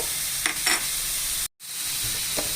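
Banana stem poriyal stirred and mixed in a pan, with two quick scraping strokes over a soft sizzle, a brief gap, then a faint final scrape; close and fairly loud.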